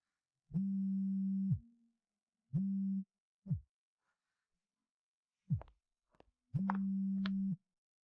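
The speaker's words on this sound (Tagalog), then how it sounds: "Sa wakas ay sinagot mo na ang telepono." A telephone ringback tone plays before a call is answered: several low, steady beeps of about a second each, separated by silences, with a few short blips in between.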